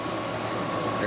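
A home air conditioner hums steadily after power returns through a generator transfer switch, a constant even whoosh of fan noise filling the whole moment.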